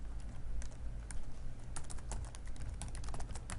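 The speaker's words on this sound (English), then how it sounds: "just by typing in the info" Rapid, uneven clicking of keys on a computer keyboard, close and fairly quiet, in bursts of quick taps with brief pauses.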